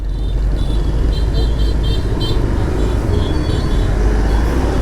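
Steady road traffic on a street in Vietnam during rain, a dense continuous rumble of cars and motorbikes close by, with faint voices in the background.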